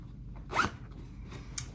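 A metal zipper on a newly sewn chiffon-lined garment zips once in a quick, quiet rasp, then a fainter short second pull follows after a pause, close and with no talking.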